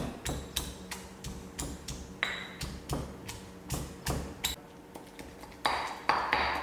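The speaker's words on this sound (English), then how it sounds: "So I'm going to do the same, the garlic and the green chilies. It's going to be crushed down." Garlic and green chilies are pounded to a paste with a steady run of sharp, close, ringing taps, roughly two per second, some louder strikes near the end.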